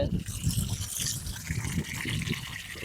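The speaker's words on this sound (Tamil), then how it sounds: "இங்க பாருங்க எப்படி தண்ணி ஊத்துது." Water pours steadily from a tap in an apartment building, a continuous splashing gush under faint background noise.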